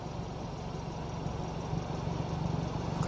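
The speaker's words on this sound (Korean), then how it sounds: "간접적으로 엔진 소리도 한번 들어보실 수가 있어요." The engine of a Hyundai Veloster N with the performance package idles in a low, steady rumble heard from outside the car, quiet and even with a slight rise toward the end.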